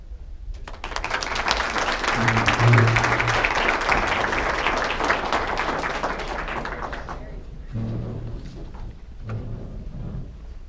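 An audience at an alumni event breaks into warm, sustained applause as panelists are welcomed to the stage, the clapping swelling and then tapering off with a few scattered claps at the end.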